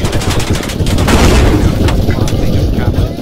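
A tank in the video game Squad fires armour-piercing rounds amid loud, dense battlefield gunfire and booming impacts, a continuous heavy barrage up close.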